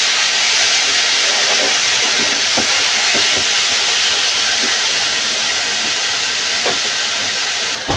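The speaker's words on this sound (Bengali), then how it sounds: "এবার এগুলো হালকা করে উল্টে পাল্টে একটু হালকা করে ভেজে নেব।" Small fish fry and get turned in hot oil over lightly browned onions in a Bengali home kitchen, giving a loud, steady hiss of sizzling with a few faint clicks and knocks, and no one speaking.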